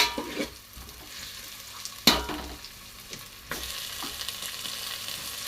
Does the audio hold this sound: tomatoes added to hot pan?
yes